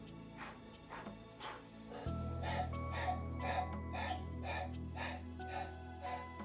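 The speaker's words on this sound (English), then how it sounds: "If you wish to do it in lion breath, looks like this." Repeated forceful lion-breath exhalations in a Kundalini yoga kriya, a steady rhythm of sharp breathy pushes about twice a second over a low sustained drone.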